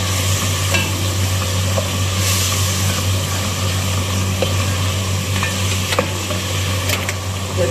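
Masala with vegetables, including tomato, aubergine and green peppers, frying in a pan: a steady loud sizzle with occasional stirring scrapes, close up and without talking.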